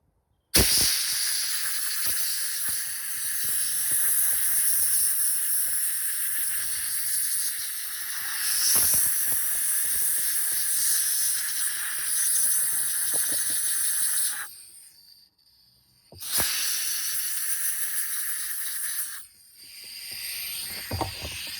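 Compressed air hisses steadily from an air compressor line in a workshop during restoration of a classic Honda XL185 motorcycle, a loud continuous blast lasting most of the time, with a brief break near the end before it resumes and then fades as the air runs out.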